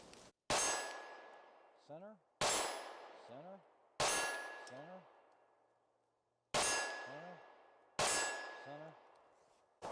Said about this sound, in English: So let's go ahead and shoot a couple of rounds. Let's see if we can print them on the steel there at distance.